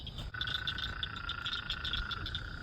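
A bullfrog calls with a rapid string of repeated croaks at moderate distance, steady and rhythmic over faint outdoor background noise.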